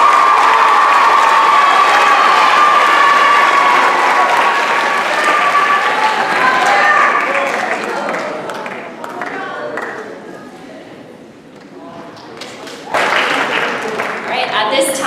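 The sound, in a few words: applause and cheering at graduation ceremony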